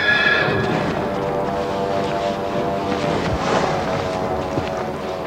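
Horse neighing loudly with steady clip-clopping hooves, a spooky sound effect for a highwayman on horseback, the whinny at the start and hoofbeats continuing throughout over a faint windy background.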